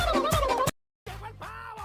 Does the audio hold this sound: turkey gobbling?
yes